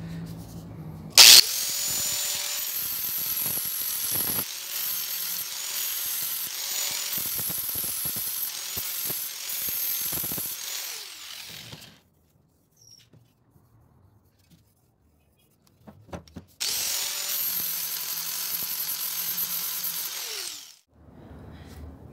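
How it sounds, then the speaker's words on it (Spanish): A grit-100 abrasive sanding disc on a power tool grinds across sheet metal from a Harley-Davidson part. It gives a steady high whine for about ten seconds, goes quiet, then runs again in a second shorter pass. "vamos a pasar a continuación un disco abrasivo de lija grano 100 para emparejar nuestra lámina"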